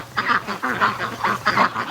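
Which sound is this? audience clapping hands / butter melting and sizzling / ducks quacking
ducks quacking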